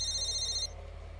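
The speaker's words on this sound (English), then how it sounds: "A beeping noise suddenly emanates from Mr. Ibarasaki's pockets" A short electronic phone tone from the video game Katawa Shoujo beeps steadily for about half a second, then cuts off, leaving a low hum.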